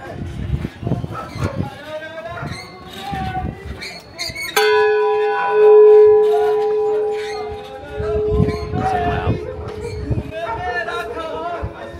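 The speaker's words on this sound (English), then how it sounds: "I'm gonna go ring that bell." A temple bell in Kathmandu, Nepal, is struck once and rings loud and close with a long, sustained metallic hum that slowly decays, while people talk and a crowd murmurs around it.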